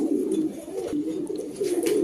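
Turkish high flying Budapest pigeons coo in soft, low, repeated murmurs close by, over a steady background hum.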